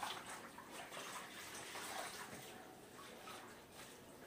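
Washcloth being rinsed in water while cleaning an adult during a diaper change, a faint, continuous splashing and running water at some distance, low and steady throughout.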